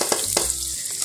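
Shrimp dropped into hot oil with garlic in a frying pan for spaghetti, giving a loud, close, steady sizzle with a couple of sharp stirring clatters.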